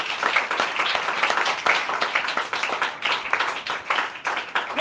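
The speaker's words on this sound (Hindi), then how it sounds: "मेरे यीशु के कलाम के लिए एक बार जोरदार तालियां।" A church congregation at a Hindi-language sermon gives loud, sustained applause, dense overlapping claps filling the room with no talking over them.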